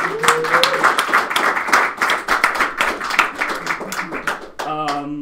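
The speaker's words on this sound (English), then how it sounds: "Round of applause for everybody who made a game this weekend." A crowd at game jam presentations breaks into loud, dense applause, many hands clapping together for several seconds, with a voice briefly audible near the end.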